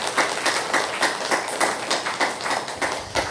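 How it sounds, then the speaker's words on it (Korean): A church congregation at a Sunday worship service claps for its missionaries, giving a sustained round of applause with uneven, rhythmic bursts of many hands at moderate distance and no talking over it. "우리 모든 선교사님들 격려의 박수, 응원의 박수 해주시기 바랍니다"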